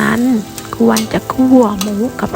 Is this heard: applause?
no